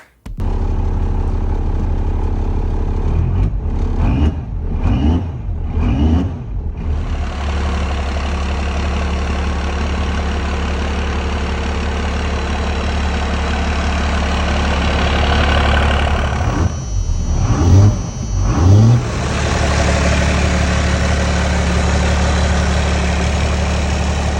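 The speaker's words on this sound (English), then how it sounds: "I had to get a couple clips of the truck starting up and making some smoke clouds." A 1993 Dodge W350 truck with a compound-turbo 12-valve Cummins diesel starts and idles with a deep, steady rumble, broken by a few brief revs early on and again later.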